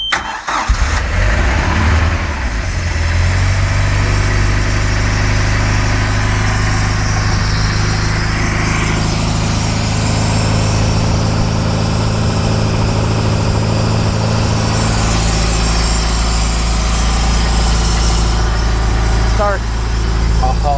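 A MerCruiser 3.0 boat engine, cold after winter, cranks and catches at once, then settles into a loud, steady mid-pitched idle that runs on throughout, with a voice speaking briefly over it.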